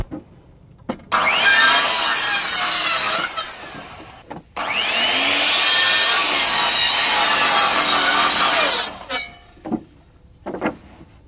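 A saw cuts wooden common rafters for a hip roof in two long loud bursts of rasping, with short pauses and a few knocks between them.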